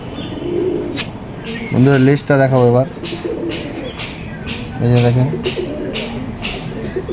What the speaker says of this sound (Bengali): এটাও বন্ধ দুমের পায়রা একদম